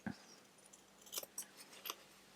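Scissors snipping the corners of a small unlined fabric zip pouch, a handful of quick, faint close cuts spaced across a couple of seconds in a quiet room.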